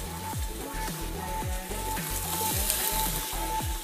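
Octopus dropped into a hot pot for a Livorno-style cacciucco seafood soup sizzles steadily and close, with repeated low thumps and stirring knocks in an irregular rhythm under the frying hiss.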